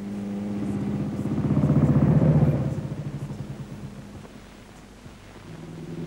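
A motorcycle engine, started with a kickstarter on a 1955 road-safety occasion in Liverpool, runs with a steady low throbbing rumble that swells in the middle and then settles back to an even idle, with no talking.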